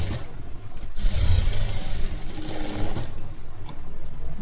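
An electric sewing machine runs continuously, stitching a blouse with a steady, loud mechanical whir and rapid needle clatter, close and alone.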